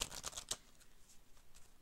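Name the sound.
shuffling cards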